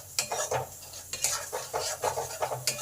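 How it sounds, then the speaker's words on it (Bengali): A spoon scrapes and stirs turmeric, chili and cumin powder in a hot pan for squash and potato curry. The strokes are quick and rhythmic, with a soft sizzle underneath, close and steady. "হলুদ গুঁড়ো, লঙ্কা গুঁড়ো আর জিরে গুঁড়ো দিলাম। এই সব একসঙ্গে ভালো করে কষে নেব।"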